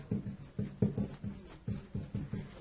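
Chalk or marker strokes on a board during a sports-mechanics lesson, a steady run of short scratchy bursts in quick rhythm, close and clear with no talking over them.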